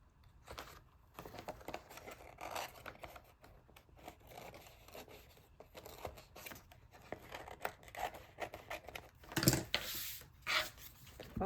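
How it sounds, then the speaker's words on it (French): Scissors snipping off excess paper while making a collage, soft intermittent cuts and rustling close by, faint and irregular with brief louder snips near the end. "je coupe ce qui dépasse ce matin"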